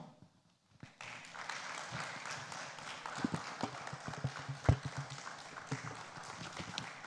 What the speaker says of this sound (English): give her a resounding round of applause and keep it coming until she arrives here